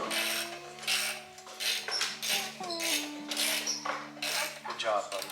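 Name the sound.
tightening muffler bolts with a ratchet wrench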